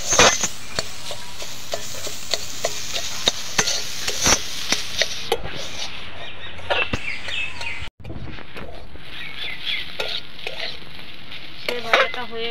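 Fish roe being stirred and fried in a pan, a steady crackling sizzle with repeated sharp scraping knocks of a spatula, continuous throughout with a brief break near the middle.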